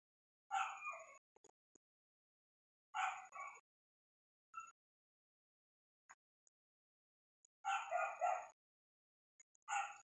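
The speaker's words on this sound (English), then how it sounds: "That dog will not stop barking." A distant dog barks in short clusters of two or three yaps, spaced apart with quiet gaps, faint and thin, with no voices.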